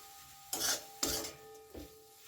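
Fenugreek and gram flour filling gets stirred in a pan in three close, rasping scrapes, each a short rough sweep, with quiet pauses between them and no voices.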